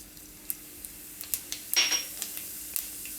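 Cumin seeds dropped into hot oil in a pan for Gujarati paneer toofani give a short, quiet sizzling burst amid a series of light metal utensil taps and clinks.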